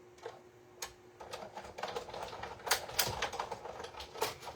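A die cutting machine cuts gingerbread card pieces, giving a run of close, irregular clicking and clacking bursts with brief pauses between them.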